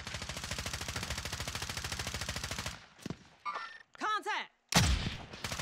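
Rapid automatic gunfire in the Warzone video game fills the first half as a steady fast burst, followed by scattered shots, thumps and swooping effects.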